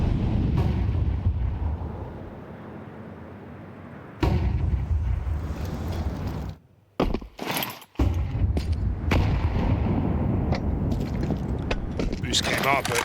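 Grenades exploding in a Counter-Strike 2 pro match at the StarLadder Budapest Major 2025: loud, broad blasts, one near the four-second mark and a cluster around seven to eight seconds, over a continuous bed of dense in-game noise.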